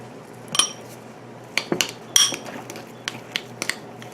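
Cheese mixture with a sprinkle of maple and cane sugar twist dry rub being stirred in a bowl, giving scattered light clinks and scrapes of a utensil against the bowl, close and fairly quiet, in irregular bursts with no talking.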